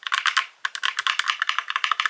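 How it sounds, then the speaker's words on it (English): Someone types on a computer keyboard close by, producing a rapid, uneven run of crisp clicks and clacks with a brief pause near the start. "I got my keyboard back from my son. So now we're back to clickety clackities."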